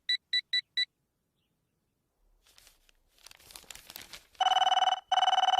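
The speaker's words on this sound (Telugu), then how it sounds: "అబ్బా, ఈ ఫోన్ చంపేస్తున్నా." An old-style telephone rings in short bursts indoors: four quick trills, a pause with some rustling and crinkling, then two long loud rings close by.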